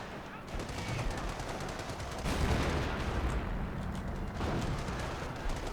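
Sustained machine gun fire in a Company of Heroes battle, Operation Market Garden 4v4 match, with rattling bursts layered over distant booms and explosions, loud and continuous throughout the clip.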